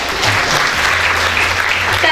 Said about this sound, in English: Kindly give her a big round of applause.